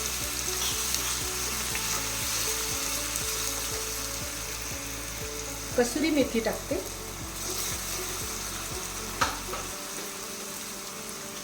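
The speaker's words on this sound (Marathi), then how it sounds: "कढीपत्ता टाकला, मिरची, आलं, लसूण, जिरं याची पेस्ट टाकलेली आहे" Curry leaves, green chilli, ginger, garlic and cumin paste sizzle and crackle in hot oil for a raw mango kadhi tempering, a steady close fry with a few louder spits and stirring clinks while someone speaks.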